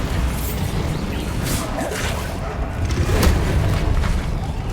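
Bombarda explosion spell from Hogwarts Legacy: several whooshing bursts and booms over a dense, steady rumble of game noise, with one sharper crack near the end.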